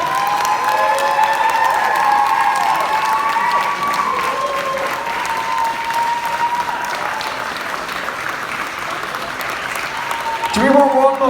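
Sustained applause with some cheering from a convention crowd after a stage performance, a thick continuous roar of clapping that holds steady, then a voice cuts in briefly near the end.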